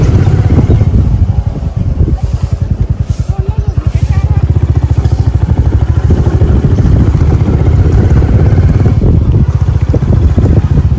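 A motorcycle ride with steady, loud engine drone and heavy wind buffeting on the microphone, the motor pulsing rhythmically throughout, with faint talk underneath.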